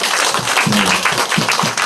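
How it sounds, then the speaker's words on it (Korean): An audience at a weekly academy session gives a round of applause to the visiting lecturers, a brief burst of dense clapping with a voice briefly over it. "오늘 강의해주신 아성그룹 강사님들께 다시 한번 큰 박수 부탁드립니다"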